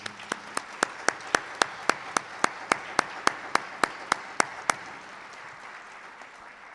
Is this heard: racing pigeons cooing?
no